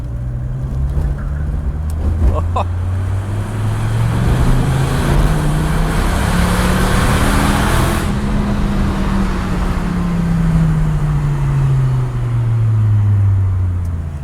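A Dodge Viper RT10 accelerates on the road, heard from inside the cabin: a loud, deep engine drone swells in pitch, holds, then eases off again over constant road rumble, with no talking.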